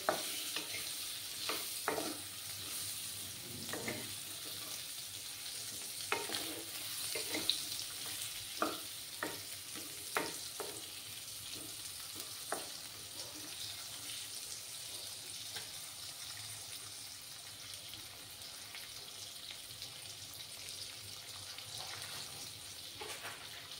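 Potatoes fry steadily in a pan for a radish-greens and fish curry, a continuous close sizzle with scattered sharp clicks and scrapes of stirring during the first half, then an even hiss alone.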